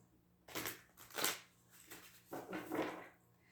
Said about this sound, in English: So let's start shuffling these cards.